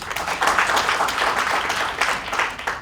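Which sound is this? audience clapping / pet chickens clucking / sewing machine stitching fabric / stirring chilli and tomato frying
audience clapping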